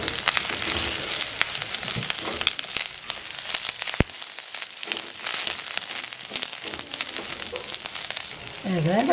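Cassava pieces sauté with drumstick leaves in a pan over low heat, giving a steady close sizzle and frying crackle with occasional stirring scrapes throughout.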